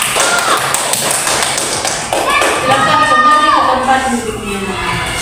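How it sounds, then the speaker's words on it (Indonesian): A classroom of students applauds a presenting group with a loud patter of overlapping claps and some thumps, while a teacher speaks over the clapping. "tepuk tangan untuk kelompok 3"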